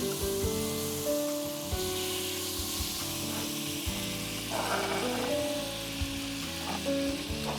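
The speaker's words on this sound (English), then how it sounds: "So I've got my cast iron skillet hot. I'm gonna put in 2 tablespoons of butter." Two tablespoons of butter melting in a hot cast iron skillet, a steady close hissing sizzle under a low droning background with occasional tonal hums.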